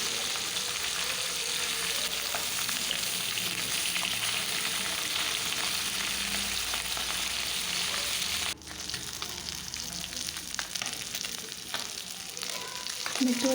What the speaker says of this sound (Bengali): আমি একটা একটা করে মাছ আস্তে আস্তে উল্টে দিচ্ছি যাতে দুই পাখি ভালোভাবে